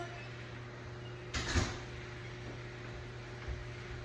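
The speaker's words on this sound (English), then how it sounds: "Shut that door." A door indoors shuts once with a single muffled thud and brief rattle, moderately close, set against a constant low electrical hum with a faint knock later.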